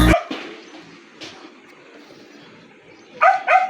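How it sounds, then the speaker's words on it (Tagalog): A dog barks sharply at the start, then a couple more quick barks follow near the end, close and loud with quiet whimpering between. "Ang ingay po ng aso nyo."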